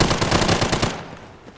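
Rapid automatic gunfire in the video game Fallout 4, loud and close, a dense burst that cuts off and trails into fading echo.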